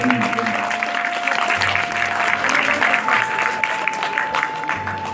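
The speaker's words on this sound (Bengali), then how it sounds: "একটা বড় করে করতালি" An audience at a short film festival in Kolkata applauds steadily, a dense wash of clapping at moderate distance with a sustained tone and faint murmurs of voices underneath.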